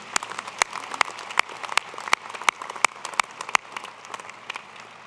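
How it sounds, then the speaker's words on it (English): Audience members at the University of Idaho's 2010 winter commencement applaud: sparse, scattered claps with sharp, distinct individual hand strikes rather than a full ovation, fairly close and without talk. "Let's give these people a round of applause"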